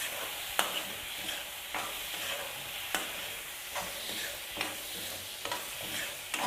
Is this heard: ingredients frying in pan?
yes